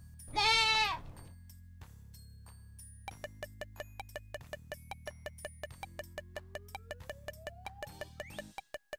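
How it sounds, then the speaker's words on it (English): A goat bleats loudly and alone, a wavering cry at the start, followed by a simple children's tune with steady plucked notes. "Goat."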